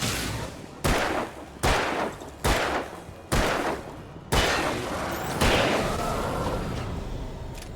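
Gunshots from Alan Wake's handgun fired into the ground at night. Five sharp, loud reports come at roughly even intervals, followed by two more that trail into a lingering rumble, with no talking.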